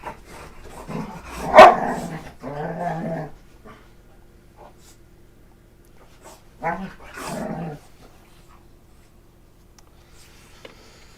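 A dog barks and growls in a few loud, close bursts, with a softer stretch of grumbling between them and quiet pauses in a room.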